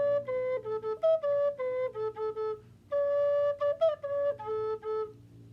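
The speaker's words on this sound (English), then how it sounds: "If I play the same thing on the alto recorder," Alto recorder playing a short melodic phrase alone, clear sustained breathy notes in a mid-low register with small pitch steps and brief gaps, one slightly unsteady bend near the end.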